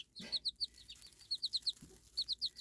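Young chicks kept in during windy bad weather give quick clusters of high, sharp peeps and soft clucks, heard up close with short pauses between bursts.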